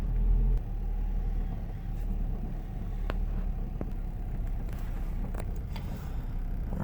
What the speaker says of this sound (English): we'll see the car start to stumble and die here.